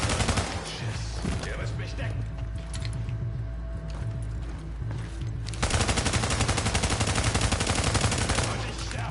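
Sustained automatic gunfire in The Division video game, loud rapid bursts filling the scene, a brief lull with mechanical clicks, then a renewed dense volley of shots.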